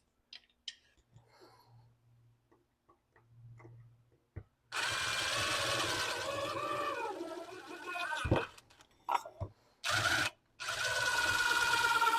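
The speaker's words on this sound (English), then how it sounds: "let's cut this pipe" A power tool cuts through an exhaust tailpipe with a loud, sustained grinding whine that stops briefly twice before resuming, after a quiet stretch of small clicks and handling noises.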